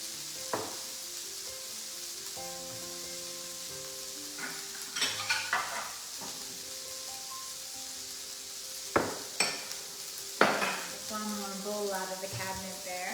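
Cooked patty pan squash sizzles steadily in a hot pan on the stove, with a continuous close frying crackle, a few stirring scrapes and clinks, and a faint hum underneath.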